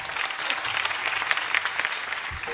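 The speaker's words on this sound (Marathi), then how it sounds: "सगळ्यांनी जोरदार टाळ्या वाजवा" Loud, dense applause from an audience at a kirtan, many hands clapping together in a sustained burst with faint crowd murmur beneath.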